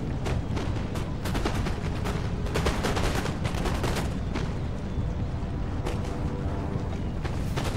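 A dense, continuous roar of musket volley fire from massed line infantry in the Empire: Total War strategy game, with overlapping cracks and booms rolling on without pause, loud and close.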